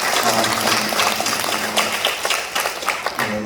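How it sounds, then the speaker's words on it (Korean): A church congregation claps in welcome for a new member at a Sunday service, a lively, fairly close patter of hands that thins slightly toward the end, with low voices underneath. "축복의 박수 한번 드리겠습니다."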